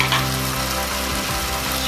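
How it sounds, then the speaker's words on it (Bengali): Potatoes fry in a pan for a drumstick dish, giving a dense, steady sizzle with a faint stirring texture that stays even throughout and has no voices over it. "এই আলুগুলোকে আমি হালকা লাল করে ভেজে নেব।"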